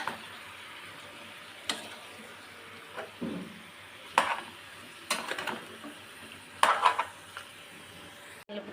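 Goat head meat pieces being stirred in a cooking pot, heard as scattered light scrapes and clinks of a utensil against the pot over a low, faint sizzle, with irregular gaps between strokes.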